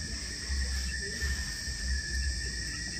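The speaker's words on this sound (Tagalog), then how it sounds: "Maminaw ta sa mga kuliglig." A dense, continuous chorus of crickets chirping at night in the forest on Mount Apo, steady high trilling that holds at an even level throughout with no talking.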